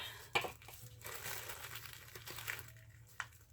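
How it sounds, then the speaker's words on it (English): Plastic wrapping crinkles and crackles in short bursts as a bag is handled up close, with a sharper crunch near the start. "I'm going to go ahead and finish unwrapping this bag"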